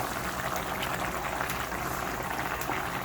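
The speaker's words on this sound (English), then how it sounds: "So here you can see it is nicely boiling and the color is beautiful brown now." Snake gourd payasam bubbles in a pan on the stove, a dense, even simmering hiss with soft burbling pops, steady and close throughout.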